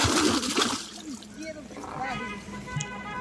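Fish and water are poured together into a container after being weighed at a fishing spot, giving a brief splashing burst at the start with sloshing and trickling after, under talk.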